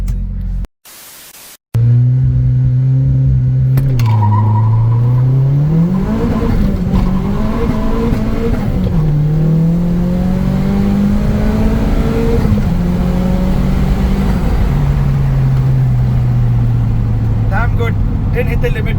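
A turbocharged 400+ horsepower Mitsubishi Cedia sleeper pulls hard from inside the cabin, its loud engine note climbing steadily through the revs with a power shift dip before rising again, continuous and close throughout after a brief cut at the start.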